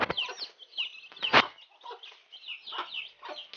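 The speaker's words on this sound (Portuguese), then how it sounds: "Eu vou mostrar para vocês a galinha comendo arroz com os pintinhos." A hen clucks repeatedly while eating rice alongside her chicks, giving short, uneven clucks and small calls at close range with no talking.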